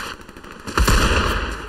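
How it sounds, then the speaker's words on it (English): Gunfire in Fortnite Reload Zero Build, a sudden loud burst of rapid shots followed by continued shooting over steady game background noise. "Well, I'm getting shot at over here."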